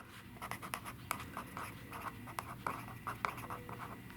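Pencil writing on paper up close, a steady stream of soft scratchy strokes with frequent short taps and pauses between words, quiet and without talk.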